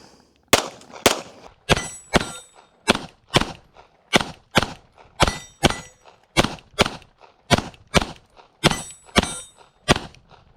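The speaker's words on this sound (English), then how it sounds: "this time we got 17 rounds of my Barry's bullet reloads loaded up" An EAA Girsan MC9 Disruptor pistol fires 17 reloaded rounds in a steady string of sharp, loud cracks, each shot ringing briefly, with no talking.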